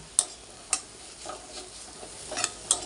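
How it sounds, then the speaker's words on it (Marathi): Methi bhaji with crushed peanut powder is stirred in a pan, giving a quiet sizzle under a few sharp spoon taps and scrapes spaced irregularly across a short stretch, with no talking. "ह्याला व्यवस्थित फिरवून घेणार"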